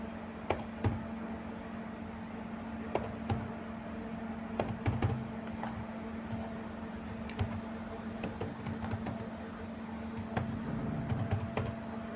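Quiet, intermittent key presses on a computer keyboard while entering a login number and password, scattered soft clicks over a low steady hum.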